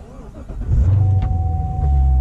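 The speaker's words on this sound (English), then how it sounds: "to start up the car, all you got to do is in the manual, push the clutch in, and then you got to come over here and push the push start button" A 2018 Chevy Corvette with a manual gearbox is started with its push start button: a brief whirr, then the engine catches and settles into a loud, steady idle close by.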